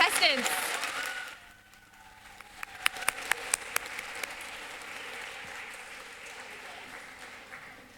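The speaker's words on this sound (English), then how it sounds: "let's give a big round of applause to these contestants" Applause from an audience at a speech competition finals for 7-8 year old contestants: a short burst of clapping fades early, then scattered sharp claps and a soft murmur of the crowd continue.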